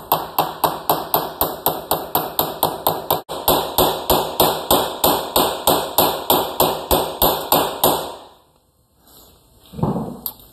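Rapid, evenly spaced metallic hammer strikes ring out close up as a u-joint cup is driven into place, a long steady run of blows, then a pause and a couple of softer knocks.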